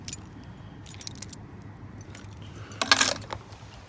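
Keys jangle in bursts, with a louder metallic shake near the end, over the low hum of a car engine at a police station.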